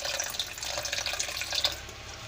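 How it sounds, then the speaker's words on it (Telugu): Drumstick leaves washed in a bowl of water, a steady close splashing and trickling like a running tap with small drips, alone without talk. "ఫస్ట్ మనం ఈ మునగాకుని శుభ్రంగా కడుక్కోవాలండి"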